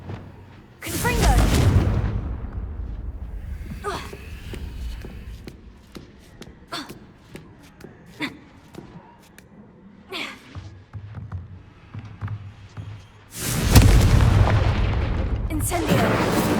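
Confringo blast curse explosions in a Hogwarts video game: two loud booming blasts, one near the start and one near the end, each with a roaring tail, separated by quieter crackles and clicks.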